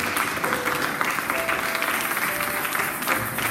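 A church congregation applauds after a French-language sermon, steady dense clapping from many hands with faint cheers, sustained throughout.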